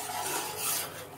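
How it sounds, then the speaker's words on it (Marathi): Flour stirred into hot jaggery syrup for gul papdi, a continuous close scraping and rasping of a spoon against the pan, alone without talk. "आता हे सगळं पीठ आपण ह्याच्यात मिक्स केलंय।"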